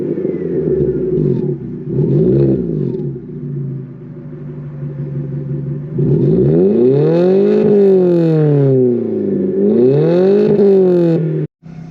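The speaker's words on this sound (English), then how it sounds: "Give it a start up. We'll have a listen to the exhaust." A modified car engine idles with a deep rumble, then the exhaust revs up sharply twice, rising and falling in loud, throaty bursts before cutting off.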